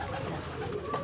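Pigeons coo softly in a short, continuous low murmur, close by and unbroken, with no talk over it.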